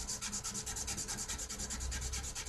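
Sandpaper rubbing on a strand of organometallic 3D-printer filament, heard as a rapid, regular series of rasping strokes, close and fairly quiet, with no voices.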